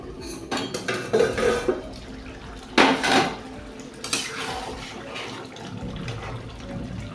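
A metal lid is set onto a pot of papaya chicken curry, with several clattering knocks and scrapes of cookware, a sharp clank near the middle, then quieter rattles, with no voices.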